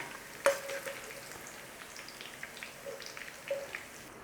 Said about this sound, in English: we've got fat to cook our potatoes